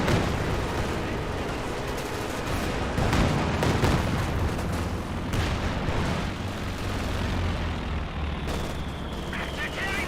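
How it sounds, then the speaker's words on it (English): Gunfire from a German Grenadier squad in the Company of Heroes 2 video game, with rapid bursts and heavier explosive hits amid a dense battle din, and a commentator talking over it. "Grenadier is now firing away"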